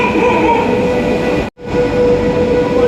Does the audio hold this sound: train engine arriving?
yes